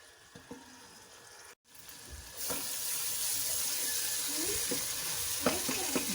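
Masala gravy for chicken biryani fries in a pan; it is quiet with light clinks at first, then a steady, louder sizzle rises and continues with occasional stirring knocks.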